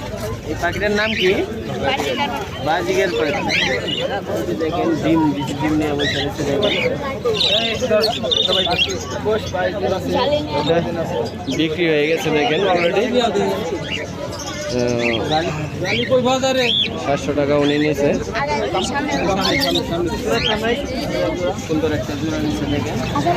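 Pigeons cooing and other birds chirping at a busy Friday pigeon and bird market in Gazipur Sreepur, the calls close but partly buried under constant crowd chatter and people talking nearby.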